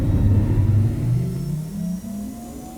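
Roc mining vehicle engine in the space game Star Citizen, a loud low rumbling hum whose pitch rises gradually as it spins up, heard alone without speech.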